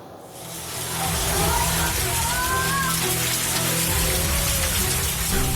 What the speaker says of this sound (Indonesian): butiran-butiran es berukuran cukup besar menimpa atap rumah dan mobil yang terparkir di halaman